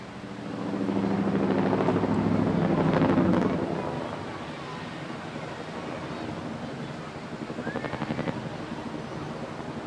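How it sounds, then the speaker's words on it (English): An RAF Chinook twin-rotor helicopter flies a display at an air festival, a broad rushing rotor roar swelling to a peak then easing to a steadier distant drone, with wind buffeting the microphone. "it's my absolute pleasure to introduce the Royal Air Force 2023 Chinook display team"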